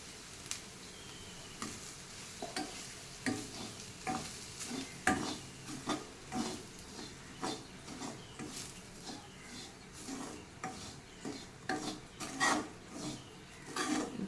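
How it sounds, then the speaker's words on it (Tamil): Semolina with sautéed carrots stirred and roasted in a pan for rava idli, a steady run of dry scraping strokes with light sizzle, close and fairly soft, no talking. "ரவையும் நல்லா ரோஸ்ட் பண்ணி எடுத்துக்கணும்."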